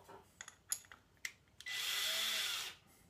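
A cordless screwdriver used with a Wolfcraft Undercover pocket-hole jig spins up in one steady, close whir lasting about a second, after a few sharp handling clicks and knocks.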